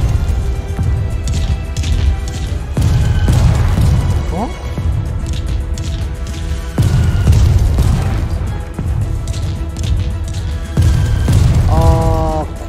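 Explosions in the retro-style first-person shooter Forgive Me Father 2 boom loudly several times, mixed with game sounds and effects, with a person talking over the action.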